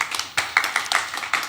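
Audience applause for a professor after a lecture at a live-streamed event comes as a short patter of close, distinct hand claps at an uneven rhythm, fairly loud.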